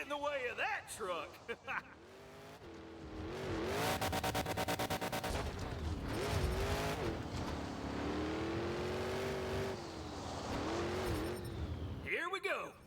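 A monster truck engine in Monster Jam Showdown revs and roars, climbing and dropping in pitch as the truck accelerates, loud and close, with tire noise and an excited commentator's voice talking over the action.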